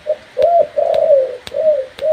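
A spotted dove coos close by in a repeated, soft, hollow series of notes, with a few sharp clicks in between.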